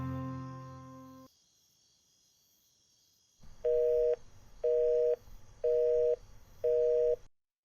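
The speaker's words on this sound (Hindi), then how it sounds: "नंबर वेटिंग पर जा रहा है।" A phone line plays a call-waiting signal in a Pakistani TV drama: after a brief musical fade and a pause, four evenly spaced beeps repeat over a low background murmur.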